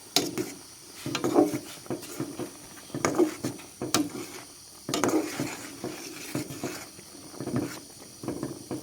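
Roasted rice being stirred into frog curry in a pot, an irregular series of close clanks and scrapes of a utensil against metal, with soft sloshing and a light sizzle between strokes.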